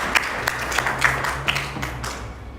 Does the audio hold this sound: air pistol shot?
no